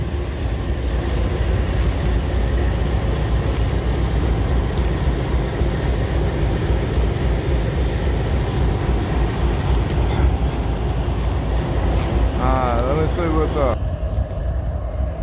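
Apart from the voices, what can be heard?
freight train of SCWX coal cars passing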